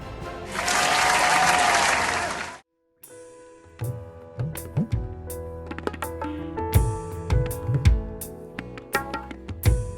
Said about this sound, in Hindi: जोरदार तालियों के साथ स्वागत कीजिए बेंजामिन ननामा सर का